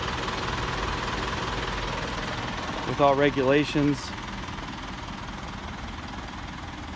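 The 4-cylinder diesel engine of a 2014 Isuzu NPR cabover box truck idles with a steady low rumble throughout, while someone briefly speaks over it midway.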